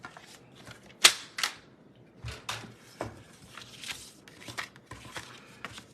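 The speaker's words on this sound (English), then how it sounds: "So let me cut some of this off." Cardstock being cut for a Stampin' Up! Father's Day card kit, with a few sharp snips and crisp rasps spaced unevenly against a quiet room, close by.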